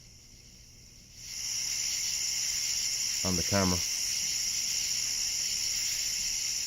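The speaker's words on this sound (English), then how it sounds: "that's the crickets outside." Crickets chirp outside at night, a steady shrill trill that swells in and holds at a constant level through a meteor-shower watch, with a brief spoken phrase passing over it midway.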